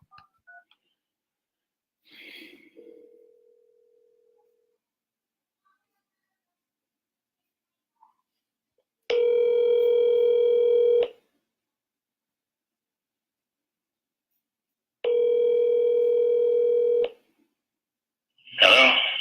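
A telephone call starts with a few quick keypad tones, then long pauses broken by two steady ringing tones about two seconds each, heard alone with no talking.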